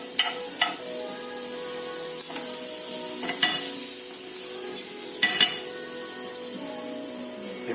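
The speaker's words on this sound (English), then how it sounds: "So in we go with some butter just to flavour the pan." Butter melting in a warm frying pan before pancake batter goes in, a soft continuous sizzle punctuated by a few sharp clicks and scrapes of a utensil against the pan, close and without speech.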